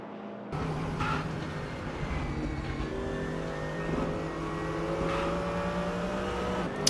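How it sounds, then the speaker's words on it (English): Mercedes-Benz AMG GT3 race car in a racing video game endurance round at Daytona, its engine droning steadily from onboard with sustained revs and a few gear-change surges throughout. "Back on board with the Mercedes-Benz of Chris Johnston, the AMG GT3 car by Black Falcon"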